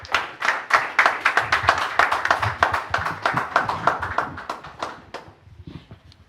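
A church congregation claps in unison to acclaim the Lord, a brisk, loud, regular beat of hands that holds steady for several seconds and then thins out and fades near the end.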